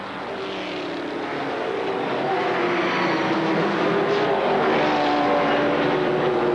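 ARCA SuperCar stock cars, including an engineered-components Buick, roar around Kil Kare Speedway in a loud, sustained engine drone that builds slightly as the field passes, with no talk.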